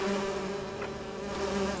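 Bees buzz in a steady, droning swarm in the Lego Lord of the Rings video game, holding a constant level for about two seconds over a tonal game soundtrack, with a brief sharper sound at the very end.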